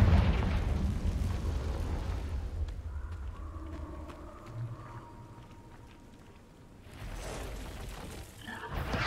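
In a cave in the Hogwarts Legacy video game, a Confringo spell explodes as a deep, rumbling blast that fades and then swells again into a second low burst, with no talk.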